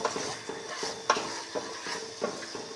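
Carrots frying in a pan with beef and onion for a tomato-sauce olive tagine, a steady close sizzle broken by repeated stirring scrapes and clinks of a utensil against the pan at a loose rhythm.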